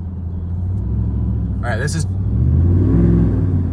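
A deep pickup truck engine rumbles steadily and swells louder toward the end as the throttle is pushed with a throttle controller in drag mode. Someone speaks briefly over it.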